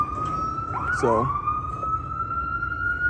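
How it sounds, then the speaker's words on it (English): A siren wails steadily at a distance, its tone shifting as the emergency vehicle passes, while someone speaks briefly over it. "There's an ambulance going by."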